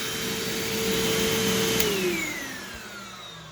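A Eureka TheBoss SmartVac 4870 upright vacuum runs in carpet mode, its motor whirring steadily while a worn brush roll gives off a sharp, sustained squeal that slides down in pitch as the motor winds down, close and loud.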